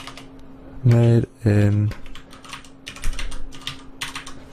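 Keys clatter on a computer keyboard in short bursts of clicks after a brief spoken phrase, close and fairly clear.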